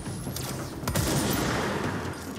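In the video game Control, a burst of gunfire erupts while a sniper attacks, a dense rattling volley with sharp cracks that holds steady at moderate loudness.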